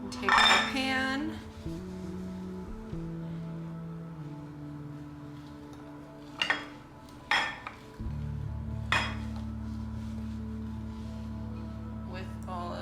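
A metal baking pan holding apples is handled, giving a few clattering clinks and scrapes of metal at the start and scattered through the middle, fairly close against a low steady background hum.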